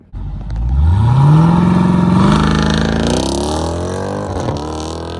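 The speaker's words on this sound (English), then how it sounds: "we have dual exhaust. They sound pretty good as well." A Jeep Grand Cherokee SRT's dual exhaust roars close by as the engine revs up, climbs, then settles into a deep, sustained rumble as it slowly eases off.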